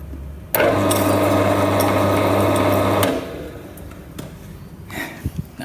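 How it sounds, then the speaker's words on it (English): A motor fan with a cockroach trapped and spinning inside runs with a loud, steady mechanical buzz and rattle for about two and a half seconds, then cuts off, leaving faint handling noises. "there's a spinning fan here, and it's a bloody cockroach spinning around on the inside of the motor."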